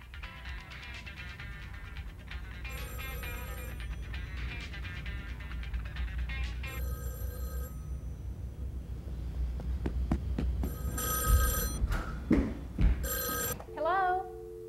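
A 1985 AT&T cordless telephone rings in short electronic bursts toward the end, under a steady bed of upbeat background music.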